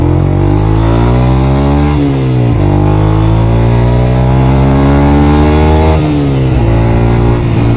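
A Yamaha YZF-R125 motorcycle with a 125 cc engine, loud and very close, revving hard through rising pitch sweeps with gear changes around two and six seconds, droning continuously throughout.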